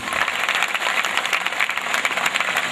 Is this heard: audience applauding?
yes